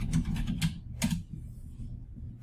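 A few quick clicks of typing on a computer keyboard, close and crisp, in a short burst followed by a single stroke and then quiet, with no talking.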